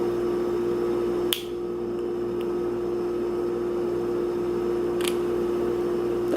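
The plastic cap of a DNA kit sample tube snaps off in a crisp close click, then a fainter second snap follows over a steady low room hum.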